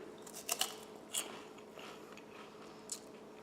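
A crispy cheese-flavoured snack, like a rice cracker or Pringles, is crunched between the teeth, giving a few sharp close bites and then quieter chewing over a faint steady hum, with no talking.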